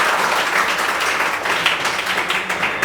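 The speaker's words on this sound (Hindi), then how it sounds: "आप परिभाषा एक बार ताली मारिए" Students in a tenth-grade biology classroom clap together, a dense sustained burst of applause lasting a few seconds, fairly close and even, without speech over it.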